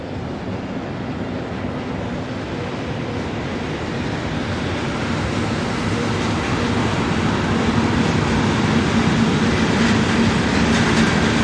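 A train on the Brenner line runs past beside a motorway near Colle Isarco, a steady broadband rumble with faint clickety-clack that holds loud and slightly swells throughout, no voices.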